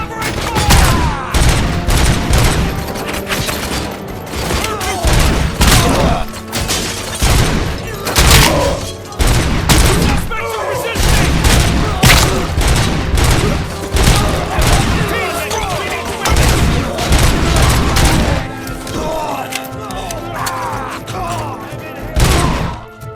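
Loud, dense covering gunfire from the RoboCop Rogue City video game: rapid overlapping bursts and booming impacts roll on nearly nonstop for over twenty seconds, with shouted voices mixed into the battle.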